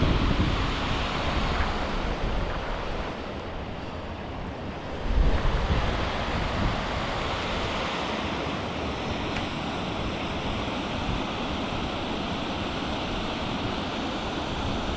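Stonesdale Beck waterfall pours into a pool among stones, a broad, constant roar of rushing water with gusts of wind buffeting the microphone, loud and close with no voices.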